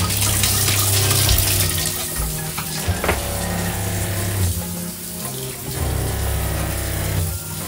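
Electric water pump in a skoolie bus conversion pushing water through the kitchen faucet, a steady rushing flow with a low pump hum running continuously, fairly loud and close, no talking.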